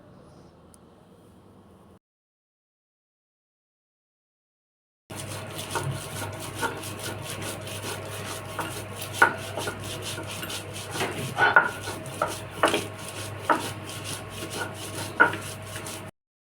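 Dried shrimp bhorta is ground by hand on a stone slab, a rough scraping and rubbing that repeats in uneven strokes with occasional sharper knocks. It follows a short stretch of faint sound and a silent gap.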